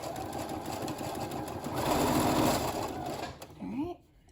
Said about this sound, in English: I am also going to back stitch again right here over the elastic to reinforce as well